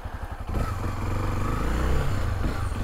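A Honda XRE 300 motorcycle rolls slowly downhill on engine braking with no throttle, its engine putting out a steady low rumble and chug that swells slightly, close and loud, with no talk.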